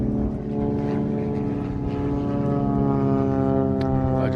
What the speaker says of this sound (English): I just watching the planes go by.